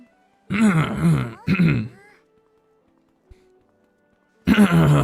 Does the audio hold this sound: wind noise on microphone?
no